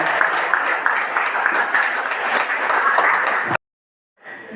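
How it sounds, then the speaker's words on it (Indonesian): Audience applause at an RW head inauguration ceremony in Tambora, a dense, steady patter of many hands lasting several seconds before cutting off abruptly, followed by a brief quiet and faint return of room sound. "ada tepuk tangan."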